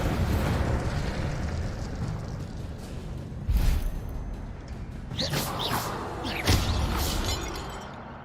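A fire spell cast in Hogwarts Legacy gives sharp crackling bursts and whooshes, with a few distinct impacts, over a steady bed of game noise.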